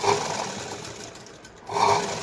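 A sewing machine stitching a katori blouse runs in two short whirring bursts, one at the start and another near the end, separated by a quieter pause.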